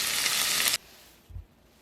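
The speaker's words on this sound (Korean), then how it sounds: "타지 않게 천천히 볶으세요." Onions sautéing in a tablespoon of oil in a pot make a loud, dense sizzle for under a second, then it cuts off abruptly to near quiet, broken by a single soft low thump.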